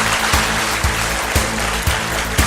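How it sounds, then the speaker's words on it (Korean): A crowd applauds continuously at an Atomy company lecture to welcome the chairman, a dense, steady clatter of clapping heard from within the audience. "큰 박수로 맞이해 주시기 바랍니다."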